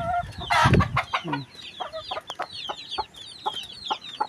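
Farm hens clucking close by, a quick series of short clucks and squawks in an uneven rhythm, one louder burst early, then steady scattered calls from several birds.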